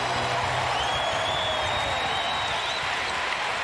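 A basketball crowd at an NBA playoff game in Charlotte cheers and applauds after Mashburn's shot, a steady, loud roar of many voices with a whistle-like tone rising over it.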